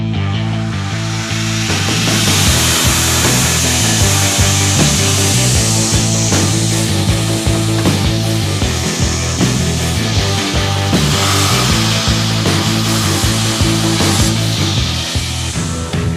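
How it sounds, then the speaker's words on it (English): A grinder shapes the tapers on a cut-out steel knife blank by eye, making a loud, continuous abrasive grinding roar that runs without a break from start to finish. "I need to grind these tapers and this taper, and that's all done by eye."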